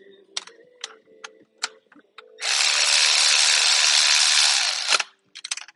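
On a sprint car rear end, a tool snugs a bolt with a series of sharp, separate clicks and then a steady, loud burst of hissing power-tool whirr lasting a few seconds, followed by a few more clicks.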